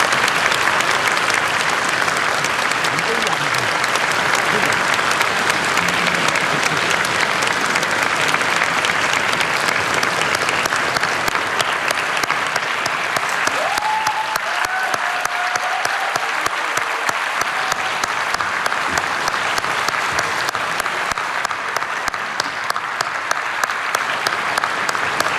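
A large crowd at a press center applauds President Moon Jae-in's arrival with sustained, dense clapping that continues evenly throughout, a voice briefly audible partway through.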